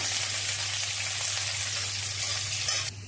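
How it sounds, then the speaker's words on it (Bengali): Chopped onions sizzle steadily in hot oil at the start of a fish curry, a dense, even crackle close by that carries on without pause and drops off slightly at the very end. "পেঁয়াজটা লাল করে ভেজে নিই"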